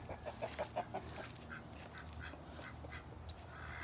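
Faint, rapid clucking and squawks from poultry, a quick burst at the start and then scattered calls against a low background hum.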